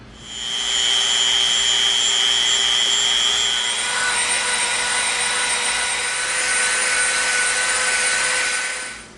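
A power sander works along the seam of an EVA foam lightsaber, giving a loud, steady whine with a shifting pitch that runs for several seconds before tapering off at the end.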